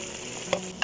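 Spices and vegetables fry in a pan for a vegetable pulao, giving a steady low sizzle with two small clicks of stirring, close by and alone.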